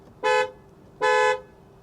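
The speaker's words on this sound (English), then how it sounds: "Honking the horn in an Audi Q3." Horn of a 2020 Audi Q3 compact luxury SUV sounds two short, loud, even honks with a brief pause between, close by in otherwise quiet surroundings.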